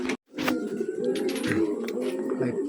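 Racing pigeon arriving during training, giving soft, throaty coos at close range over a busy outdoor background, with faint voices nearby.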